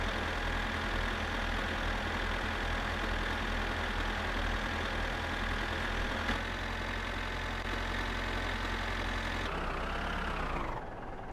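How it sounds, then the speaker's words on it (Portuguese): A loaded tractor engine in the My Summer Car game drones loudly and steadily as it strains to pull, then its pitch sags and dips before the sound drops off at the end. "Vamos ver se o trator vai ter força pra puxar, né?"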